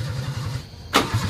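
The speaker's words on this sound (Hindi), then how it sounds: "तो अभी हम लोग स्टार्ट कर रहे हैं गाड़ी को, स्टार्ट करने शुरू कर रहे हैं" A Maruti Gypsy under restoration has its engine cranked after a low idling rumble, ending in a sudden loud start burst followed by a steady engine note, with no talking.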